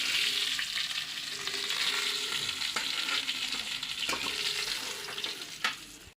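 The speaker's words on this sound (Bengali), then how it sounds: "ডিমটাও ভেজে নিলাম।" Fish roe frying in a pan of oil after the fish is fried red: a continuous close sizzle with spatula stirring scrapes and occasional sharp taps, no speech.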